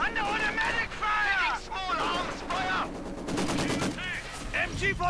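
Bursts of machine gun fire from a World War II battle in the strategy game Company of Heroes, with a Maxim gun and Grenadier light machine guns firing, heard under continuous excited commentary.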